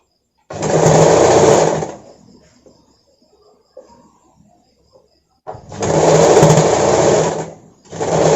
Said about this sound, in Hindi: तो यहाँ पर मैं इसको मशीन से सिलाई कर लूंगी।